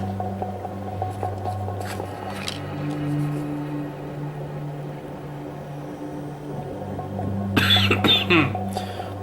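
A single harsh cough from someone getting over a bad sinus infection, close and brief near the end, over a low steady hum in an indoor workspace.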